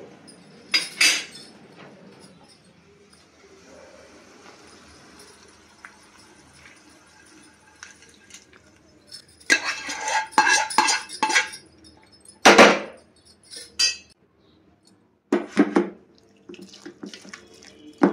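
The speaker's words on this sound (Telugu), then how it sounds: "గ్రైండ్ చేసుకున్న క్యాబేజీలో ఇప్పుడు పోపును వేసి కలుపుకోవాలి" Tempering is mixed by hand into ground cabbage chutney in a bowl, heard as intermittent bursts of spoon scraping and clinking against the dish, separated by quiet pauses.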